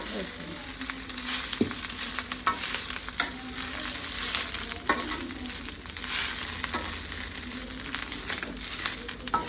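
Spices and garlic dry roasting in a pan with no oil for a Telangana-style garlic chilli powder, a steady soft sizzle and crackle with scraping stirs throughout.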